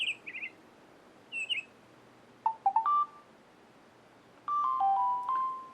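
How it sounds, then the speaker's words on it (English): A nature-themed ringtone on a Samsung Restore phone gives bright bird chirps and tweets in short bursts, followed by longer melodic electronic tones, clear and close with no talk. "there's a couple of really cool ringtones on this phone."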